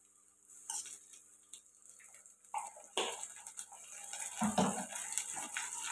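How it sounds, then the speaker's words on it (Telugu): Ginger garlic paste goes into a pan of frying tomato and brinjal, giving a few soft scrapes and clinks of a spoon against the pan over a faint, low sizzle. "ఇందులోకి అల్లం వెల్లుల్లి పేస్ట్ అయితే వేసుకుందాం"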